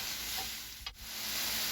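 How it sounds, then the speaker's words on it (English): Metal spatula chopping egg roll in a bowl filling on a flat-top griddle, a soft tap or two over a steady close sizzle of frying food. "So just chop it up."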